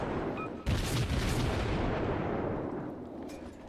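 A Murmansk naval cruiser fires in a World of Warships battle on the Ocean map: one heavy booming salvo followed by a long rolling rumble that slowly fades.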